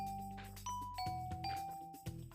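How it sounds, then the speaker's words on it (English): A Minecraft video game doorbell rings, a quick series of bright chiming dings stepping in pitch, clean and fairly quiet with no talk over it. "you hear the little doorbell dung dung dung dung."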